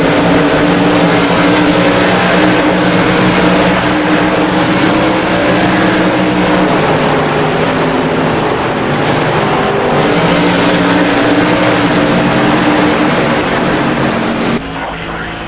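An iRacing SK Modified race car engine at Richmond Raceway drones loudly and steadily under partial throttle, with the pitch shifting gently as the car works through a corner, cutting off sharply near the end.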